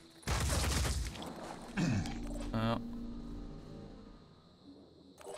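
Gunfire bursts in the tactical strategy game Phoenix Point: loud, dense shots at the start, then a couple of shorter bursts around two and three seconds, fading into a low rumble with game ambience.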